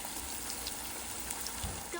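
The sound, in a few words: cauliflower manchurian pieces frying in oil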